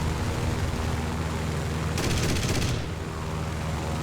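Yak-9T aircraft guns fire in War Thunder, a short, loud rapid burst of cannon fire over a constant engine drone, then the engine continues alone.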